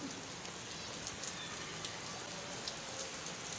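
Dense, steady stormy rainfall pattering on surfaces, a constant hiss with scattered drop impacts, fairly faint and unbroken.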